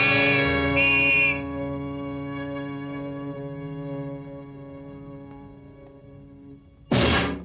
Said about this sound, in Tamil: போலீஸ் விசில் கேட்டாலே உடம்பெல்லாம் பதறி போகுது